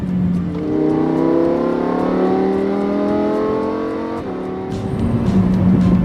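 A Lamborghini Huracan engine revs loudly and steadily, pitch climbing through the gears, then dropping briefly before rising again, close and continuous.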